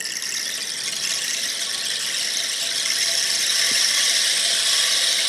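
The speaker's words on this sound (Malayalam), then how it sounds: "നോക്കിയാൽ നമ്മളിപ്പോൾ ഉഴുന്നാണ് ഇടുന്നത്." A homemade bamboo rainstick filled with urad dal (black gram) rattles in a continuous, bright, hissing cascade of tiny grains, close and even, growing slightly louder toward the end.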